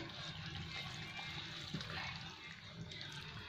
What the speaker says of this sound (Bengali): এবার আমি গরম জলটা দিয়ে দিচ্ছি।